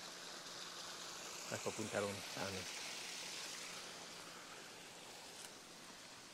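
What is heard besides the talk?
flowing stream water at a farm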